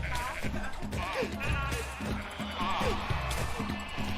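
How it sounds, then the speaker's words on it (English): Sheep bleating repeatedly in a TV comedy scene, several wavering, pitched cries spread across a few seconds over a low rhythmic background, moderately loud. "Wait, sheep. A sheep."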